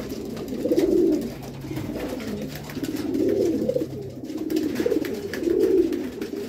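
Racing pigeons coo in a loft during a derby, soft rolling calls repeating about every two seconds at moderate distance, with faint background noise and no talking.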